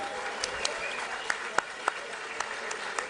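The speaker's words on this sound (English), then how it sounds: "Ladies and gentlemen, have a round of applause for these fighters." Crowd applause at an MMA event, a faint, distant wash of clapping from the arena audience punctuated by a few sharper claps and bursts, with some background voices mixed in.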